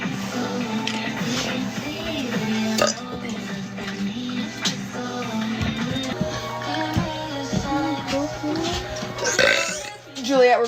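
A girl burps repeatedly, with long croaky belches running over steady background music while people talk and laugh nearby.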